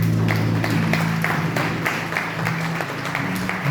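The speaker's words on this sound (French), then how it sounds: "Je remercie également le professeur Mandé, je veux qu'on vous voit et qu'on vous applaudisse." Audience applause during a formal speech, a steady wash of many hands clapping at moderate loudness throughout, with a low hum beneath and no voices.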